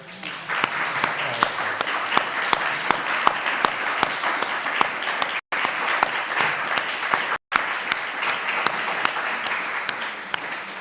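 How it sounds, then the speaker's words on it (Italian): A conference audience applauds after a talk on the seventeenth century, a loud, sustained wash of clapping with distinct sharp claps throughout and two very brief dropouts. "Grande applauso per questo ricchissimo intervento del collega Paolo Benzi."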